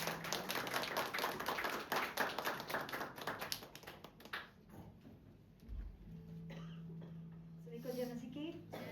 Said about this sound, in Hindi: जोरदार तालियों के साथ उनका स्वागत करेंगे